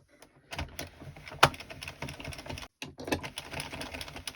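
Addi or Sentro circular knitting machine working waste yarn stitches, a close, quiet run of rapid plastic clicks and clatters in uneven bursts with a brief pause before the clicking resumes.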